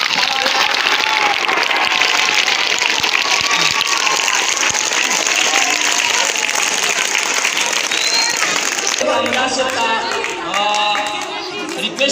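An audience at a school quiz competition claps in a sustained burst of applause with crowd noise, and voices take over as the clapping fades near the end.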